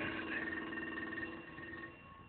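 An antique wooden wall telephone bell, driven at about 20 hertz, rings continuously with a bright metallic tone, close and fairly loud, easing slightly toward the end.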